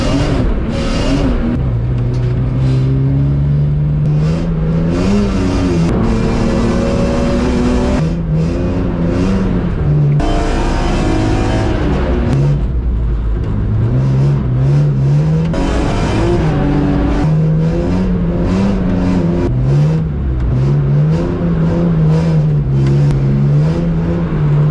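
A car lapping the wet Mondello Park race track in the rain, its engine loud and close throughout, repeatedly revving up through the gears and dropping on shifts and braking, with slight brake rubbing noted.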